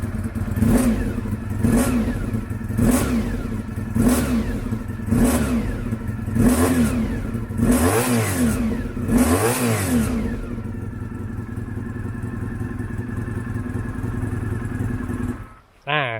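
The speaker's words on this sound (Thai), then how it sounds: "เสียงท่อนะครับ ก็จะเป็นประมาณนี้นะครับ จะนุ่ม เงียบสุขุมนะครับ แต่ว่าเวลาเบิ้ลเนี่ย ก็จะมีแอบแผดนิดนึงนะครับ" A Honda VFR motorcycle engine blips its throttle in a series of repeated revs through a flat endurance-style exhaust, each rising and falling, then settles to a steady idle; a brief murmur near the end.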